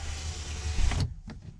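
A power window on a Ford 6.0L Powerstroke truck hums steadily as it rolls down, ending in a soft thunk and a brief click, close and fairly quiet.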